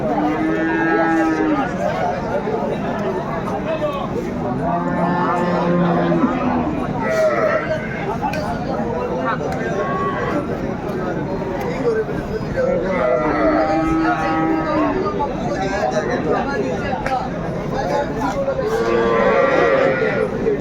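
Cattle moo repeatedly at a busy rural cow market in Aftabganj where cows and calves are sold, with long low calls rising out of a steady crowd murmur and people talking nearby.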